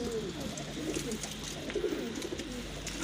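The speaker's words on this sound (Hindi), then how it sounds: "ये दो कबूतर ऊपर बैठे हैं, बाकी ये बैठे हैं।" Pigeons for sale coo softly and repeatedly in a loft, low throaty calls rising and falling against steady background hiss, with no one speaking.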